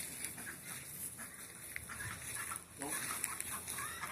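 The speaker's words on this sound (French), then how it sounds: "Ça, c'est les poulets bicyclettes." Free-range African poulets bicyclettes on a ranch in Beoumi: soft, scattered clucking from several chickens at a moderate distance amid outdoor ambience, with a steady high insect-like hiss and occasional faint talk.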